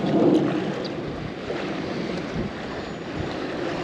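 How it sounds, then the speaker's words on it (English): Wind blowing across a quarry at night while fishing, a steady moderate rush with faint lapping water underneath and no speech. "the wind blowing in my face"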